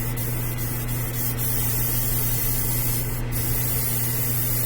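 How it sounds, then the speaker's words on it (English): A Grex airbrush sprays paint in a continuous, even hiss close to the mic, with a steady low hum from the compressor underneath. "You can see with this Grex airbrush, it covers pretty well, pretty quick."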